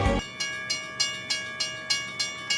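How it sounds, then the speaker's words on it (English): Trolley approaching in Pokémon Crystal, a steady rhythmic clatter of regular wheel-like beats under a held electronic tone, fairly quiet and alone with no talking. "Oh, sounds like a trolley's coming around."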